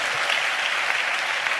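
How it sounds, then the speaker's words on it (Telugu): A church congregation claps in praise, a dense, even wash of many hands close by, continuous and alone. "చప్పట్లు కొడుతూ దేవునికి స్తోత్రాలు చెప్దాం."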